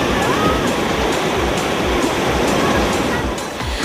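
Beach surf at Tanhay, Negros Oriental, rolls in as a steady, loud wash of breaking waves with continuous hiss and no pause throughout.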